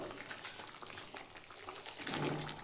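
Okra tumbles into a pan of thinly cut boiled potatoes, stirring up a soft sizzle and rustle that swells near the end, close and moderately quiet with no talking.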